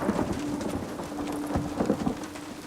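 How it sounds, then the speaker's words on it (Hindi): Heavy rain pouring steadily, a dense wash of noise with scattered thuds and patters on nearby surfaces, no speech. "ये बारिश नहीं रुकने वाली।"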